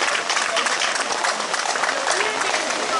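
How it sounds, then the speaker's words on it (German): A crowd at an outdoor vigil applauds the helpers, a loud continuous wash of clapping that holds steady throughout without a break. "Ganz tollen Applaus für den Luigi und Carola und den anderen Helfern."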